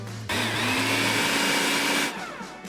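A food processor starts up and runs at a loud, steady whine for a couple of seconds while mixing a vegan peanut butter cheesecake filling, then spins down and stops, with no talking.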